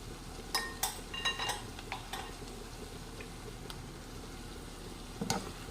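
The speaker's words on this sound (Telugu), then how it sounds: "చూడండి వేస్తున్నాను మటన్" Mutton pieces go into a hot pan for gravy, giving a steady low sizzle broken by a few sharp clinks and scrapes of a spoon against the pan, with no talking.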